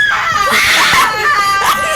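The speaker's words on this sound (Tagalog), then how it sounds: "Sigaw na naman eh." A loud, high-pitched scream rings out from a Roblox horror game, PETAPETA School of Nightmares, rising and wavering for about two seconds with a few broken, sobbing shrieks.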